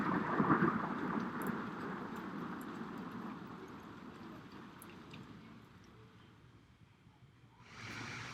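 Thunderstorm with heavy rain, a broad steady roar of downpour with a low rumble swelling early, easing slowly across the stretch and picking up with a brighter hiss near the end.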